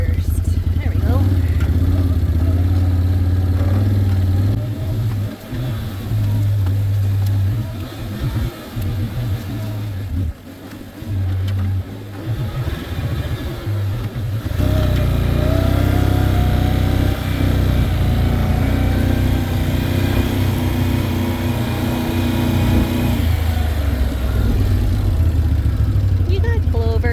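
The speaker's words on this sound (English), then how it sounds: "I'm going to make my own little trail right here. Well, let's just put it in gear first." An ATV engine runs loud and close throughout, dipping and rising with throttle as it is put in gear and driven through Missouri forest, with a person talking over it.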